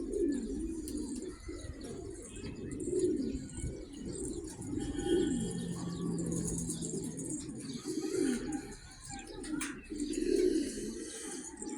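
A pigeon, a gift bird kept among newly acquired young birds, coos in repeated low rolling phrases every couple of seconds, close and steady, with faint chirps behind.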